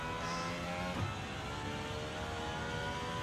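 An Aston Martin races in Gran Turismo 7 with a steady, loud engine drone that holds throughout, with one brief rise near the start.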